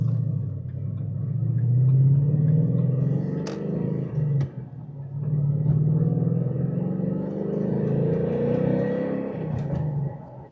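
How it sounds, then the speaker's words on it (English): A supercharged car engine idles and rumbles steadily with gentle revving, a faint high supercharger whine riding over the low drone, close and fairly loud. "I like how you can hear that blower whine just a little bit"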